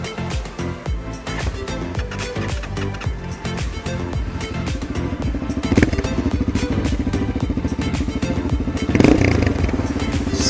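Up close, a Motorstar Z200s motorcycle runs through its stock exhaust with a steady, throbbing idle. The engine is revved a couple of times midway, and the pitch climbs briefly before settling back.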